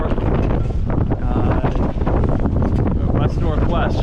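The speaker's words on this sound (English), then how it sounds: "we got hit with a nice" Strong west-northwest wind hits a sailboat on Lake Erie, loud blustery roar buffeting the microphone close up, with a voice faintly mixed in beneath the gusts.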